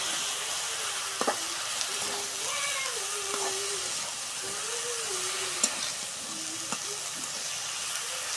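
Taro stolons and potato stirred with dried shrimp in a pan, steady sizzling frying with intermittent scraping stirs, fairly close, and no talking.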